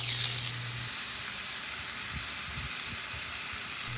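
A smash burger taco, a beef patty with Colby Jack cheese between tortillas, sizzles loudly on a hot griddle while pressed down, a constant close frying hiss with a brief tone at the start.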